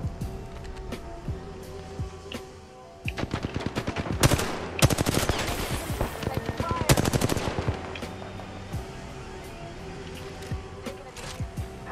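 Automatic gunfire in the Apex Legends video game, a quiet lead-in followed by loud, rapid bursts of shots in quick clusters, with faint talk underneath.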